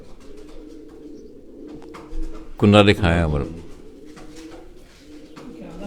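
Malange Wale breed pigeons coo in a deep, throaty burst midway, with softer bird sounds around it and someone speaking over parts of the scene.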